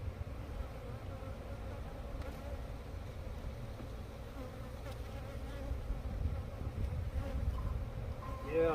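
Honey bees from large hive colonies, set up as singles during shaking, fill the air with a dense, steady buzzing swarm that sits close and continuous throughout, with a faint low engine-like rumble underneath.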